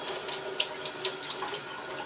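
Water running from a tap in a groundwater model lab setup, a soft, steady trickling and splashing with a couple of small drips, fairly faint and without talking.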